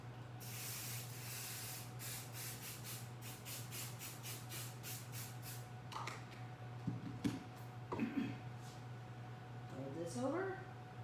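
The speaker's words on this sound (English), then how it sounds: "I'm going to spray it lightly with the basting adhesive spray for" Short bursts of basting adhesive spray for embroidery hiss repeatedly in a quick series, followed by quieter handling noises and a soft voice speaking near the end.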